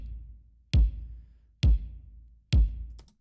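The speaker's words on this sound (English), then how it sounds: "Started out with a kick. Sounds like this." Three deep kick drum sample hits from a pop-style beat, evenly spaced about a second apart, each a punchy boomy thump with a short decaying tail, alone and close.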